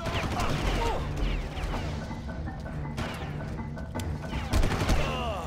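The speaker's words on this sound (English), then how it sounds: "they're shooting me from below?" Gunfire from enemies below in the video game Far Cry, dense bursts of rapid shots and impact cracks filling the whole stretch, loud and continuous with a voice faintly underneath.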